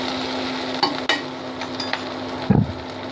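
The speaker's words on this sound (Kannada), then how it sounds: "ಚೆನ್ನಾಗಿ ನೀಟಾಗಿದ್ದು ಫ್ರೈ ಆಗುತ್ತೆ" Food fries in a couple of spoons of ghee for dhaba-style dal fry, a soft close sizzle under a faint steady hum, broken by a few spatula knocks and a clink against the pan.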